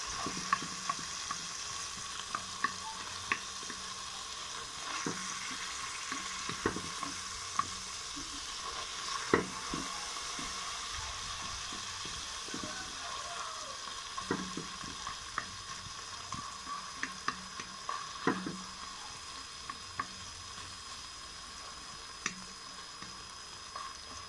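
A spoon scraping and stirring Malagasy mung bean tomato sauce in a pan, with a steady low sizzle and irregular soft clicks and scrapes repeating throughout, close and fairly quiet.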